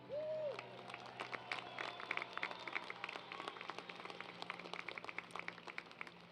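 Graduates of the College of Health and Human Development cheer and applaud at a CSUN commencement ceremony. A brief tone is followed by a steady wash of many hands clapping, with scattered whoops from a large crowd.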